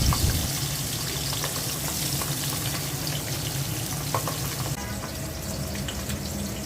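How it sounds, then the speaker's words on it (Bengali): Pabda fish fry in hot oil in a pot, giving a continuous, dense sizzle at a steady level, with light crackling and faint clinks and no talking. "পাতিলায় তেল দিয়ে দিচ্ছি। পাবদা মাছগুলো তেলের মধ্যে দিয়ে দিচ্ছি।"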